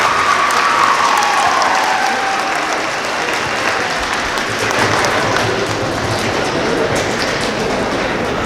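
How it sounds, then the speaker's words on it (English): Audience at a Veterans Day gathering applauding for a choir, loud sustained dense clapping with an even roar across the whole span, a faint voice briefly over the start. "We also want to give a big round of applause to our choir."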